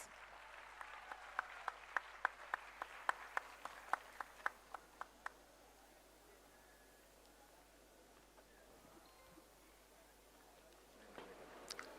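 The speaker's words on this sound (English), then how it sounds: "Please give a huge round of applause." Quiet applause from a gathered audience at a young achievers summit in a hall, with sharp individual claps standing out over the first five seconds before fading, and a brief renewed patter near the end.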